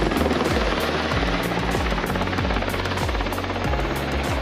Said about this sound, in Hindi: बार बार इस हेलीकॉप्टर को आता जाता देख